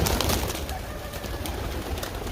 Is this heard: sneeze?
no